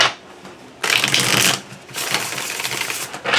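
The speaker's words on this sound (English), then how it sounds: "Despite being glossy, this is an exceptionally beautiful deck to shuffle." A glossy tarot card deck being shuffled up close, with bursts of crisp riffling and flapping cards separated by short pauses, loud and alone.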